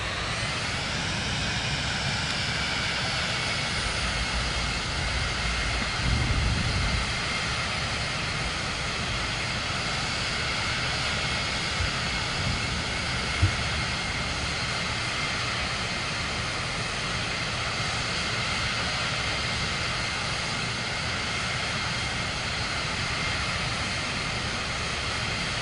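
A jet airliner's engines drone steadily at taxi power in Microsoft Flight Simulator 2024, a continuous loud whine and rumble with layered tonal hum, unbroken throughout.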